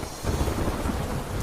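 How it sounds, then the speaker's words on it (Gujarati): Heavy torrential rain with rumbling thunder in Didwana district, Rajasthan, a steady dense roar with low rolling energy throughout, loud and close with no voices. "રાજસ્થાનના ડીડવાના જિલ્લામાં પડ્યો મુશળધાર વરસાદ."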